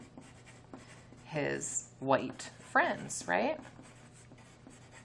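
A pencil scratches on paper in short, soft strokes through the whole stretch, close but quiet, partly under a teacher's spoken lines.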